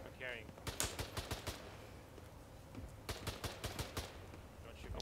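Rapid bursts of automatic gunfire in a military shooter game, clustered volleys of sharp cracks near the start and again toward the end, with a voice briefly heard.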